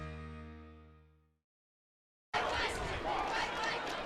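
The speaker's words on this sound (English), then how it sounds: "The Penn cheerleaders trying to fire up this homecoming crowd" Homecoming crowd at a Penn high school football game against Elkhart, a broad loud roar of cheering and chatter bursting in after a fading tone and brief silence, sustained to the end.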